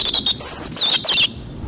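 Small songbird, a robin, chirping in quick bright bursts and short warbling phrases, close and fairly loud, with no other sounds around it.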